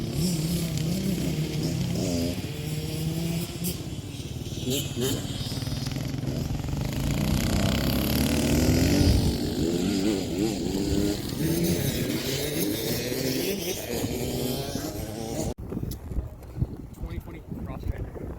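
A Beta Cross Trainer dirt motorcycle rides along trails, its engine droning and rising and falling with throttle over a steady wind rush, while a rider talks over the noise.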